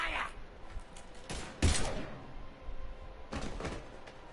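Sci-fi weapon shots from Mass Effect Legendary Edition crack out in a few separate bursts, one heavy close blast in the middle, with game dialogue around them.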